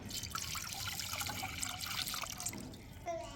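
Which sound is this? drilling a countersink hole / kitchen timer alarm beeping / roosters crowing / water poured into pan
water poured into pan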